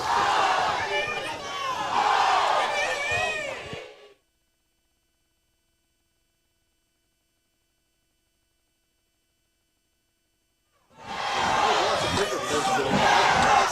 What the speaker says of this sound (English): Farrell sideline, crowd getting all riled up here for Farrell